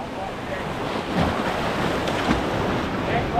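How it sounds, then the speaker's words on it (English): Big ocean waves break and wash over coastal rocks, a continuous nearby roar mixed with heavy wind noise on the microphone. "There is big waves, so just if one comes, we'll run, eh?"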